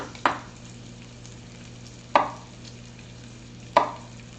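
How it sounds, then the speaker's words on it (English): Three sharp, separate knife strikes on a cutting board, spaced well apart, as garlic is diced. A low, steady background hum runs beneath, with no talking. "I'm dicing up some garlic."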